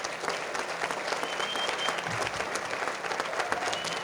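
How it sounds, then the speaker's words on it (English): Dense, sustained applause from a dinner crowd honoring teachers at an awards dinner, a steady even roar of many hands with no gaps, at moderate loudness throughout. "So with that, a round of applause for our teachers."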